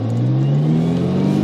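A 1989 Ferrari 328 GTB engine pulls in first gear, a loud close mechanical drone that climbs steadily in pitch through the short stretch, without any talk.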